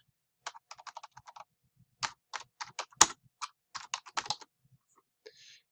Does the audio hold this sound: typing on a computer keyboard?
yes